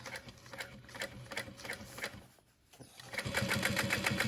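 Sewing machine stitching a flat seam on a backpack, a rapid rhythmic clatter in short bursts, close and clear, pausing briefly midway before a louder, steadier run.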